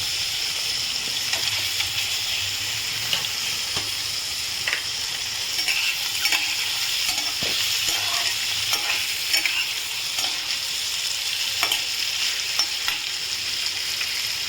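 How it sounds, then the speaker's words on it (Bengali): Paneer fries in butter in a pan, sizzling continuously with a bright, crackling hiss, while a utensil stirs and taps against the pan now and then. "বাটারে আমি পনিরগুলোকে ভেজে নেবো পনিরগুলো আমি এর মধ্যে দিয়ে দিলাম"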